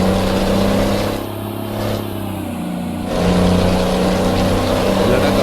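A heavily loaded truck engine in Euro Truck Simulator 2, hauling a wood chipper, a loud steady drone that dips briefly in pitch and level then swells back up as the engine revs.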